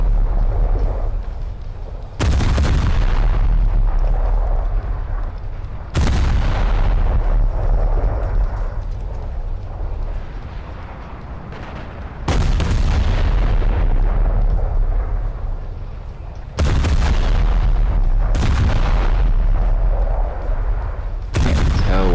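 Naval ship guns firing in the War Thunder video game aboard a cruiser, with five heavy booming salvos spaced several seconds apart, each sharp blast followed by a long rolling decay, loud and close with no talk.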